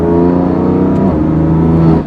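BMW F8X exhaust with catless downpipes, a loud, close, raspy engine drone held at steady revs for about two seconds before it drops off.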